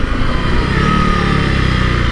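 Close, loud engine drone of a Honda CRF 300 Rally motorcycle under way on a Peak District ride, a steady buzzing single-cylinder note with wind rush and no talking.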